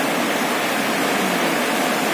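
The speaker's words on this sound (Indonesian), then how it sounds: "Berhubung di luar hujannya deras," Heavy rain pours steadily outside a camping tent beside a river, a loud, dense, unbroken rushing wash with no let-up.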